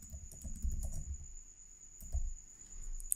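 Close, soft typing on a computer keyboard forms two short bursts of quick keystrokes over a faint steady background hum.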